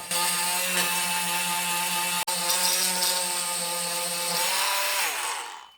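A Parkside PAMFW 12 C3 cordless oscillating multi-tool scraping cement from tile joints, a steady high-pitched whining buzz that runs loud and continuous for about five seconds, with one brief dropout midway, before winding down.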